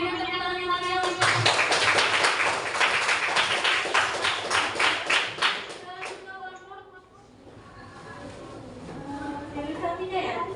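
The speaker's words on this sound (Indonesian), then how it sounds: "berikan tepuk tangan yang meriah untuk" A small group claps together during an online class, a burst of rhythmic hand claps lasting a few seconds, followed by voices talking.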